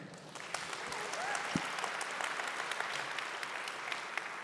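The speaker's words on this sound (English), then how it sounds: "Applaud him!" Conference audience applauding a speaker as he takes the stage, a dense, steady wash of clapping from a sizable crowd that holds evenly throughout.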